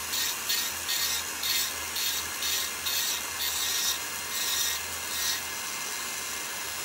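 A hand file smoothing the inside of a metal jewelry piece, rhythmic rasping strokes about twice a second, close and fairly loud, alone for several seconds before falling quiet.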